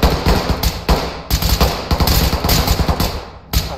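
Rapid automatic gunfire in a military shooter video game, with loud, close bursts of rattling shots broken by brief pauses.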